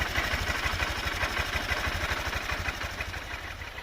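A 2023 Honda CB125F single-cylinder motorcycle, freshly fitted with a new cam sprocket and oiled over the cam and tappets, idles up close with a fast, even, steady thumping beat.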